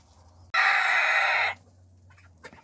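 Egbert, a chicken, gives a single loud crow lasting about a second, close by and standing alone against quiet surroundings.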